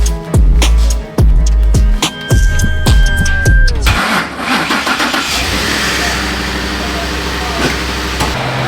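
A Ford F150 pickup truck cranks with several loud, rhythmic starter pulses before the engine catches, then settles into a steady idle and low rumble as it rolls slowly, close and loud, with no speech.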